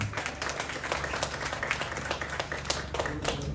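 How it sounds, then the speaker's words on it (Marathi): Graduation-day audience clapping hands, a dense steady patter of many claps filling the room at moderate level with faint voices mixed underneath. "म्हणून आपण टाळ्या वाजवत आहोत"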